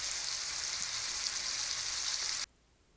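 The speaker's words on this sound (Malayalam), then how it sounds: "ഒരു ട്രിപ്പ് ഫ്രൈ ചെയ്ത് മാറ്റി അടുത്ത ട്രിപ്പ് ഫ്രൈ ചെയ്യാനൊക്കെ ആയിട്ട് ഇട്ടിട്ടുണ്ട്" Fish frying in a pan in a home kitchen, a steady close hiss and crackle of hot oil that cuts off abruptly near the end, leaving near silence.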